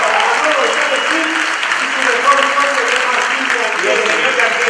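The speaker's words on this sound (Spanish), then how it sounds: "Un aplauso para Manuel González Gil." Steady audience applause fills a theater-history event in Buenos Aires, dense and sustained at moderate-to-loud level throughout, with some voices or murmuring faintly mixed into the clapping.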